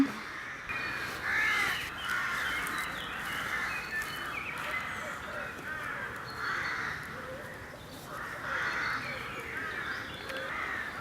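Crows caw repeatedly in uneven bursts outdoors, the harsh calls rising and falling over a constant background rumble, with no clear speech.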